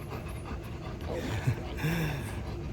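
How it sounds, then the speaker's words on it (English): A dog panting steadily up close, rapid rhythmic breaths with a brief whimper, heard outdoors downtown after being petted. "Beautiful dog."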